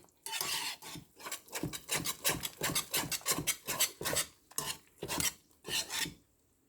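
Cream style corn is being mixed for maja maize, heard as a close series of rhythmic scraping and rasping strokes of a utensil against the pot, about a dozen in a row with short pauses.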